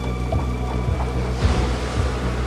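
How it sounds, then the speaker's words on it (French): Stormy sea off the coast, with waves crashing and breaking against a boat under gusting, howling wind, a loud rolling wash with surging swells close by. "Les vagues s'entrechoquent, se déchirent. Le vent hurle."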